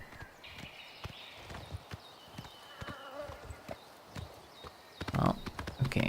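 A horse's hooves clip-clop at a steady walking rhythm in Oblivion Remastered, fairly quiet and close, growing busier and louder near the end, with occasional faint game sounds.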